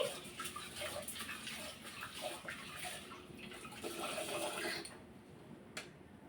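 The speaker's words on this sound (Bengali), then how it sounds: "ডালগুলো একটু ধুয়ে নিচ্ছি" Lentils being washed by hand in water, with soft continuous swishing and splashing, close and fairly quiet, no voices.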